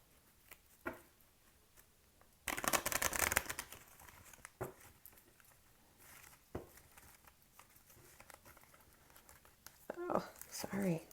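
Quick bursts of oracle cards being shuffled and riffled, loud flurries with pauses between, close up in a quiet room.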